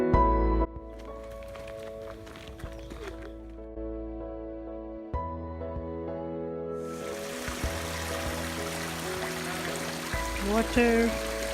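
A stream flowing along the Margalla Hills trail gives a steady wash of running water that rises partway through and continues under a droning background tone.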